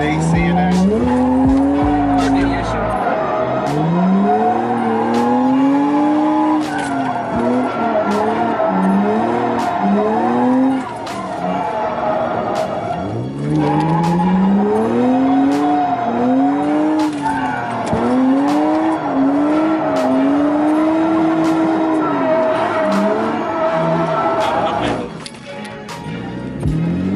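A car drifting with its AC running, tires squealing in long rising and falling skids over a loud, revving engine, close and continuous, with people talking over it.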